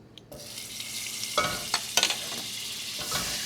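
Butter melting into olive oil in a pot for shrimp and grits gives a steady close sizzle, broken by a few sharp clicks and stirring knocks, with no talking.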